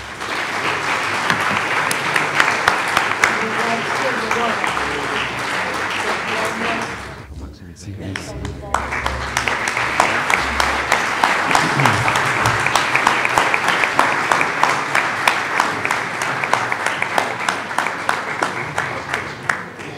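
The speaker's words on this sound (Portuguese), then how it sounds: "se pede uma salva de palmas" Audience applause at a formal ceremony inaugurating a UNESCO chair in Portugal, a steady, dense clapping that breaks off briefly midway and then resumes just as full, with a few voices mixed in.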